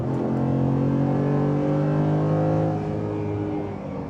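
A Ford F-150 pickup truck drives along, its steady engine drone rising slowly in pitch as it accelerates, heard from inside the cab with no talk over it.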